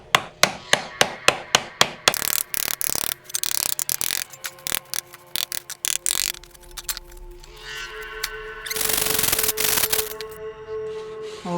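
Metal sheet being hammered flat by hand: a rapid run of sharp, evenly spaced ringing blows, then irregular louder strikes, a brief scraping rub, and a few final knocks, all close and without talk.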